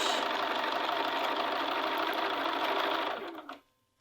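Sewing machine stitching close to the seam line around a short sleeve cuff, a steady close-up whir that runs for about three seconds, then slows and stops.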